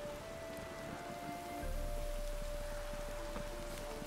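Steady rain in The Witcher 3 falls as a soft, even hiss of drops on surfaces, thickening into a fuller, louder patter partway through with a low rumble underneath, with no voices over it.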